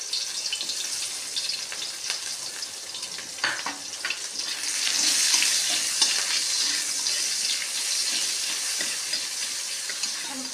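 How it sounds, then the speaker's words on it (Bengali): Onions fry in a pan with dried chillies and bay leaves, a steady bright sizzle with occasional stirring scrapes, growing louder and hissier midway, close by and with no talking. "পেঁয়াজ ভাজা হয়ে গেছে"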